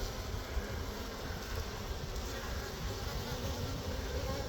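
A swarm of bees hums in a steady, dense, continuous buzz that fills the whole clip, close and even in loudness with no speech over it.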